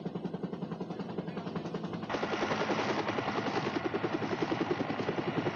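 A helicopter's rotor chops in a rapid, steady beat close by at Laguna Negra, a mountain lake in Spain. It grows louder and brighter as the engine whine rises partway through.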